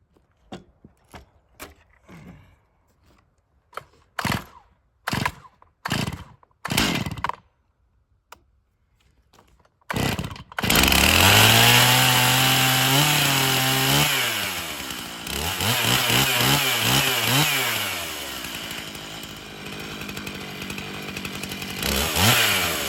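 A chainsaw mill rips a board from an abandoned tree; after a few short revs and pauses it settles into a loud, steady sustained cut close by, continuing to the end without talk.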